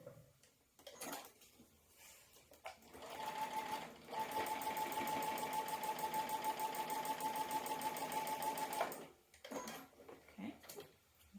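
A sewing machine stitches quilt triangles together in one continuous run of several seconds, its steady whirring hum starting and stopping cleanly, framed by quieter handling noises of fabric before and after.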